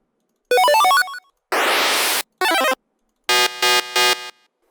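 8-bit chiptune music cue from Filmora's 8-bit gamers collection. Bursts of bleepy square-wave arpeggios and a noisy sweep are separated by silences, ending in three short stabbing chords, bright and close.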